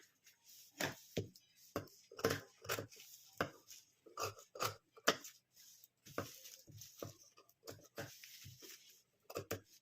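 Scissors snip through old blouse fabric being cut into a purse, a string of crisp, close cutting strokes in irregular rhythm with short quiet gaps between them.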